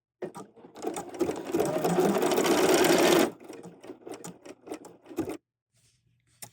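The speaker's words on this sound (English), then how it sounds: "now we're going to lower our foot and stitch this stitch." A sewing machine stitches fabric notches on a fanny bag, running in a steady, close mechanical whir for about three seconds before slowing into a few short, quieter bursts and stopping.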